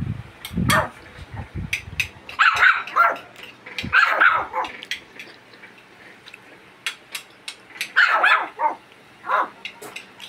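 Hungry puppies bark in sharp, high yips and short bursts, close and loud, with pauses between the outbursts and a growl or two.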